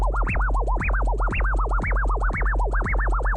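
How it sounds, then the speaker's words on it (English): Turntable scratching by a DJ: rapid 16th-note baby scratches pushing the record forward and back, producing a steady stream of rising and falling zipping swoops over a low sustained bass tone, loud and rhythmic with no talk. "I'm gonna go forward and back and do 16th notes baby scratches"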